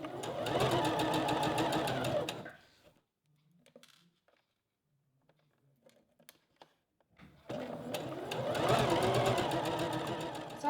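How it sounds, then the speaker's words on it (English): A sewing machine runs a straight-stitch seam in two close bursts of fast even clatter, one at the start and one at the end, with a near-silent pause of faint handling sounds between them. "I'm going to sew the seam with a 1 cm seam allowance and a straight stitch"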